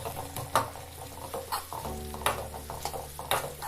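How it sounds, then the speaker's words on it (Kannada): Sliced onions sizzle in a pan for tamarind rice while a spoon scrapes and stirs them in quick strokes, the frying hiss steady and close throughout. "ಈರುಳ್ಳಿ ಚೆನ್ನಾಗಿ ಫ್ರೈ ಆಗಬೇಕು"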